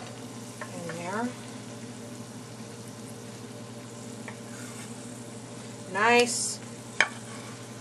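Brown rice being stirred into an uncooked stuffed pepper filling gives a steady, soft wet rustle throughout, with two brief spoken voices and a small sharp clack near the end.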